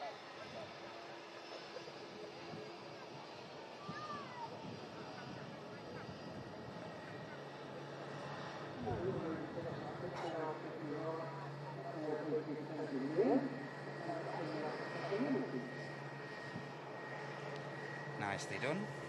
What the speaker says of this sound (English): Aircraft about to touch down.